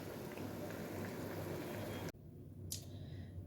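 Tomato and onion simmer in a pot with a steady, dense bubbling hiss that cuts off abruptly partway through, leaving a quieter background and a brief rustle.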